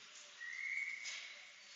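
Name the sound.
referee whistle stopping play in youth ice hockey game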